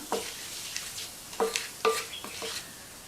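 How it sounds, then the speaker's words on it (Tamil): Chilli powder is stirred into food in a pan with several short, close scraping strokes over a faint background sizzle. "இதை நல்லா மிக்ஸ் பண்ணி விட்டுறலாம்"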